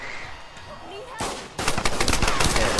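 Game gunfire in Tomb Raider: Definitive Edition multiplayer, a rapid rattle of automatic shots that starts partway through and grows louder and denser toward the end, with a voice murmuring faintly underneath.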